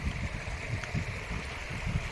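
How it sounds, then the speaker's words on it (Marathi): A river near Dabhosha waterfall runs over big rocks and tree roots, giving a steady, close wash of flowing water with a soft gurgling undertone. "हा प्रवाह बघा मित्रांनो पाण्याचा प्रवाह किती मस्त वाहतो"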